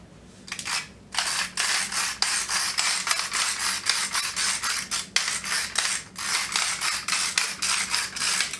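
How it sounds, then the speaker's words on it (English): A hand-cranked pepper grinder cracks fresh black pepper in a home kitchen, giving repeated gritty, ratcheting crunches in quick bursts with short pauses between turns, close up and with no voices. "And I always get asked about my pepper grinder."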